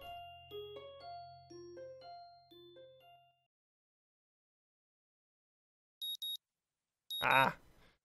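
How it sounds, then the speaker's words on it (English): An alarm clock in the visual novel game Katawa Shoujo gives two short electronic beeps after a soft melodic chime fades out, followed by a brief louder burst of sound. "My morning alarm goes off"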